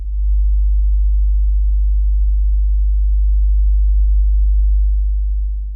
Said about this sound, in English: Putting my hand on it increased the hum that is coming from the very cheap internal mic of the Taisho Godo already